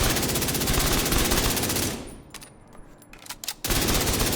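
Assault rifle from The Division 2 fired in a rapid, evenly spaced automatic burst, loud and dense for about two seconds, then a quieter gap with a few clicks before the sustained fire resumes.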